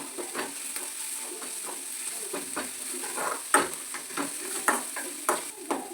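Garlic and chopped onion fry in a pan with a soft continuous sizzle, punctuated by a spoon's repeated scraping knocks, close and fairly quiet.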